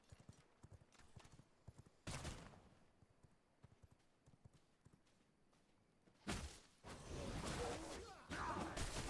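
A horse gallops in the video game V Rising, its rhythmic clip-clop hoofbeats steady at moderate distance, with louder bursts of whooshing noise breaking in partway through and again near the end.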